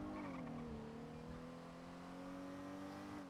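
A car in a video game engine revving steadily through a handbrake turn, its tone holding a sustained whine at moderate loudness with a faint tire squeal blended in, no voices.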